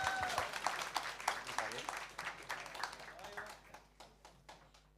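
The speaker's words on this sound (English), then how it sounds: "Round of applause to our winners of the testing nomination." Applause from an audience for competition winners at a DEV Challenge Friends Day event, a scattered crowd of clapping hands that gradually thins and fades, with voices murmuring underneath.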